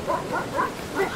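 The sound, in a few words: dogs barking while running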